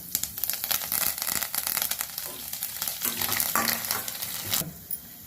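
Cumin seeds, dried red chilies and curry leaves frying in hot oil with chana dal: a loud, dense crackling sizzle that runs steadily, with a few sharper pops and spatters, close up and alone before it cuts off near the end.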